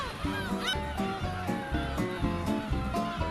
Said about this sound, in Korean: 시간이 됐으니 이제 어서 그물을 올리라고 갈매기들이 더 성화입니다.